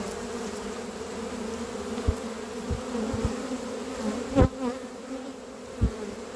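Steady droning hum of many honey bees buzzing close by at the hive during a basswood honey harvest, with a few louder individual bees passing near.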